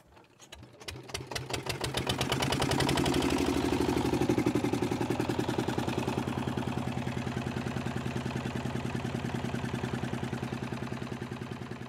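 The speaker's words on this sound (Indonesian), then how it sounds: "Bang Hendy bisa ngidupkan mesin ini, Kak?" An engine turns over and fires up, then settles into a loud, steady rapid knocking idle that runs on continuously at close range.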